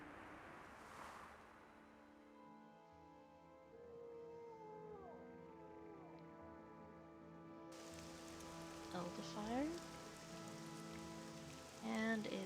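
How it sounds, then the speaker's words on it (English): Steady rain falls in the Morrowind video game, a soft continuous hiss of drops under layered sustained tones, with a short word spoken at the start. "And it's raining."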